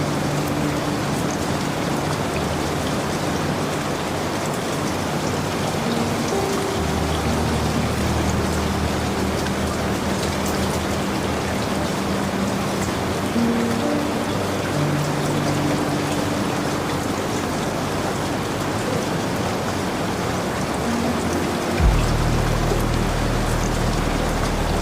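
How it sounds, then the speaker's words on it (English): Steady rain drums outside a Rocky Mountaineer train in the Canadian Rockies, a dense continuous patter blended with a low rumbling drone from the moving train, unbroken and even throughout. "the rhythm of the rain outside, slow, steady, endless"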